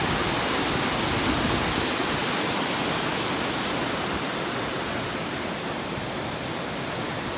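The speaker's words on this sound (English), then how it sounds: "Here's the river and rapids" River rapids near Lake Superior rush in a steady, loud broadband roar of churning water, continuous and unbroken throughout, with no voices over it.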